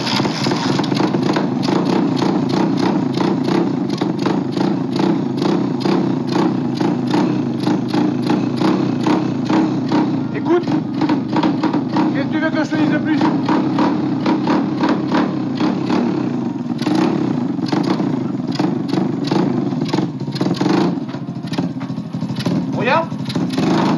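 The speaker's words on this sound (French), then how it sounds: "Je vais te démarrer l'engin, tu vas voir." A motorcycle engine runs close and loud, a steady idling drone with occasional revving, while someone talks over it in French throughout.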